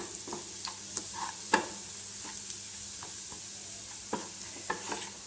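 Macaroni frying gently in ghee in a pan over a low flame, a soft steady sizzle broken by light scraping stirs and occasional taps of the spoon, close by with no voices.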